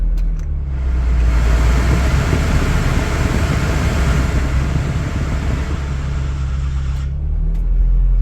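A Porsche 924 Turbo's air-conditioning fan kicks on with a broad, steady whoosh over the idling engine, running loud and close for several seconds before cutting off, no voices.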